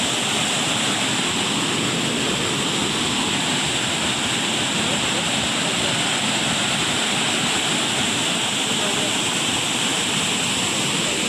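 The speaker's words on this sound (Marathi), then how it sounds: "बघा धबधबा तो बघा धबधबो हय खोला फक्त इकडनं आणि इकडे पाणी आहे बघा" The Ozar waterfall at Bhiravande near Kankavli in Konkan roars as a loud, constant, unbroken rush of falling water filling the whole scene, steady from start to finish.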